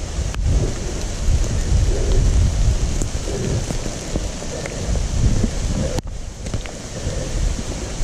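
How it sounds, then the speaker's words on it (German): Steady heavy rain pours through a forest near old mine workings near Bratislava, with low rolling thunder rumbling underneath and a dense, continuous wash of drops; no voices. "Und es regnet immer noch."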